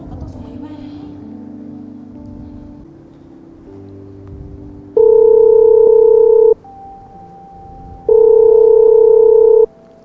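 A telephone call tone on an outgoing call plays in two long, loud, steady bursts, separated by a gap, over a quieter background with a soft melodic bed.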